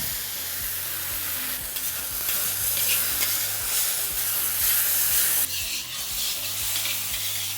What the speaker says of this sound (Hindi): और इसी के अंदर अब मैं डालूंगा ताज़े टमाटर की प्यूरी।